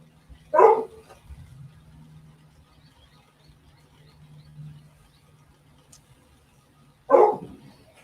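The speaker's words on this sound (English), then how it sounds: "Apparently my dog doesn't like my turning today. A lot of barking." Two loud, close dog barks about six seconds apart in a woodturning shop, with a faint low hum from the running lathe between them.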